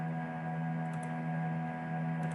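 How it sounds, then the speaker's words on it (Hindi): A steady electronic hum with a low drone and constant whirring, close and unchanging, like a laptop cooling fan running. "लैपटॉप का फ़ैन है ये उसकी आवाज़ है।"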